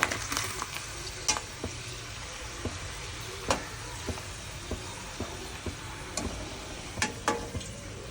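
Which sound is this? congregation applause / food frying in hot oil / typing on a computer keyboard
food frying in hot oil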